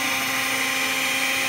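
An electric hand mixer beats batter in a home kitchen with a steady, loud, high-pitched motor whine that holds constant without pause.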